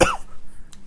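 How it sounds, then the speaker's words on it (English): A single sharp cough from a man, loud and close at the very start, followed by quiet room tone and a faint click. "There goes my cough again."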